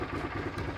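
A Suzuki Intruder motorcycle fitted with a penguin pipe exhaust, its engine running with a steady low rumble and pulsing idle, fairly close with no speech.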